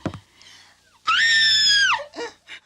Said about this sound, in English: in a few seconds you just hear one big loud scream